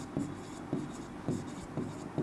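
Pen or chalk writing on a surface during a chemistry lesson makes short scratchy strokes, about five of them, coming in a loose rhythm close to the recorder, with no speech over them.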